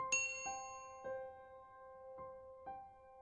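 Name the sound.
notification bell ding sound effect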